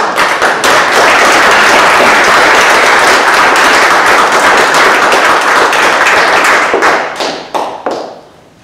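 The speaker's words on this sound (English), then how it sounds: "So I have a round of applause." Close, loud clapping from an audience at a local government committee meeting, a dense burst of sharp hand claps that keeps up for several seconds before thinning out into a few last claps.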